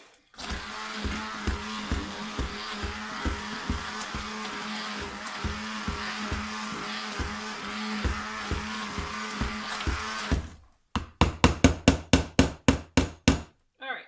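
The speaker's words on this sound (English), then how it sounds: "let me stick blend this one more time" A stick blender mixes hot process acne soap, whirring with a rhythmic, pulsing mechanical chatter for about ten seconds, then stopping and starting in short bursts.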